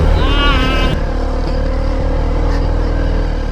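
An adventure motorcycle engine drones loudly and continuously as the bike wades through deep water at Mapanuepe Lake in Zambales, with a brief rising whine at the start and voices mixed in.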